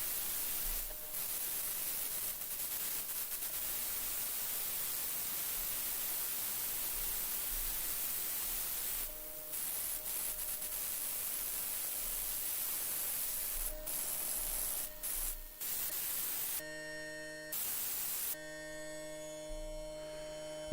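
SoundSaw distortion effect in the SoundSaw iOS app, a steady hissing, buzzing noise with periodic dropouts, then a cleaner tonal hum near the end, moderately quiet with no talking.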